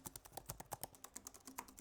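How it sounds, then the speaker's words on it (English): Typing on the Apple Magic Keyboard for iPad Pro: a quick, fairly even run of soft, muted key taps, about fifteen presses, faint and close with no talking. "Here's how the keyboard sounds."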